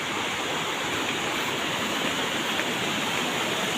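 Floodwater rushes steadily beneath a swaying hanging bridge in the rural provinces, a loud, continuous broadband roar of churning water with no breaks and no voices.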